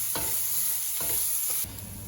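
Ginger garlic paste fries in a pan for tomato cashew gravy curry, a close steady sizzle broken by a few spoon scrapes as it is stirred, with the hiss dropping near the end.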